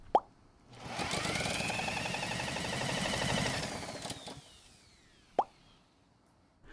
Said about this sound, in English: it's best to use a drill to spin the engine over